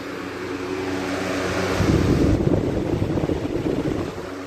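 Arctic Wind box fan running close by, a steady broadband whooshing rush of moving air that swells slightly louder midway before easing back, continuous with no talking.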